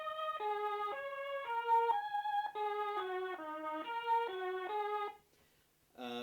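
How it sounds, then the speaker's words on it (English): Mellotron-style string sample played on an XP synthesizer, a sustained chord sequence of about five seconds, then a brief pause and a short new note at the end, with no voices. "here is the basic string Mellotron sound, which is a very familiar sound"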